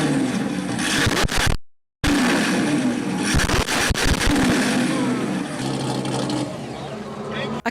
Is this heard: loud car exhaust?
yes